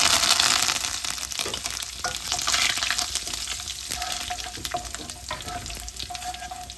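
Mustard seeds, kasuri methi, fennel seeds and curry leaves fry in hot oil, a dense steady sizzle with scattered pops and crackles and occasional scrapes of stirring, close and continuous with no talking.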